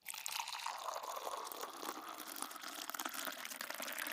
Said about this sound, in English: Let's pour you a steaming cup of captivating storytelling.